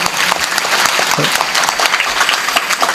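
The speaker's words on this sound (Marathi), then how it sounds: "सर्वांनी जोरात टाळ्या वाजवायच्या" A crowd at a devotional kirtan gathering claps loudly for the accompanying singers, a dense, sustained burst of many hands close by, with voices faintly mixed underneath.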